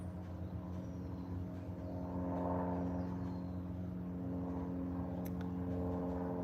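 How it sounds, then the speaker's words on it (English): Helicopter flying over a field behind a house near a police station, a steady low rotor drone with stacked harmonics that swells slightly midway, continuous and moderately near, with no talk. "Sounds like a helicopter's going."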